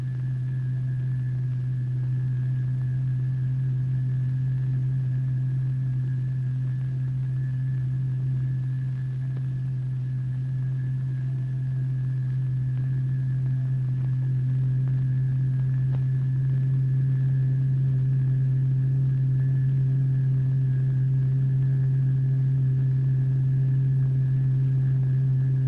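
A sustained pure tone drives cymatics patterns. The low note holds loud and steady for the whole stretch with a faint higher overtone and no interruptions.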